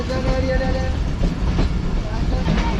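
A train rumbles along the track near Ring Road Junction railway station in Karachi, a loud, steady roar of wheels and carriages with faint rhythmic clatter and hints of a voice underneath.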